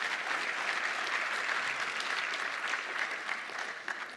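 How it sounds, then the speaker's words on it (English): A conference audience applauds steadily after a chairperson's remarks, a dense wash of clapping hands that holds at a constant level before fading slightly at the end. "Let's offer one final applause for the chairperson's remarks made earlier."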